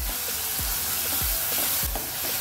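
Chopped tomato frying in a pan with salt and ginger-garlic paste for a chavli batata usal, a steady close sizzle broken by four dull scraping stirs at even intervals.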